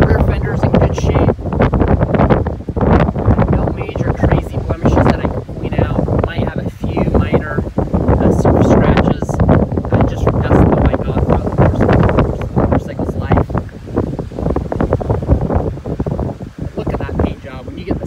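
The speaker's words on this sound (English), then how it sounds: "very windy at the moment, so I apologize for the wind noise" Heavy wind buffets the microphone in loud, continuous rumbling gusts outdoors beside a 2005 Big Dog chopper motorcycle, with a person talking underneath throughout.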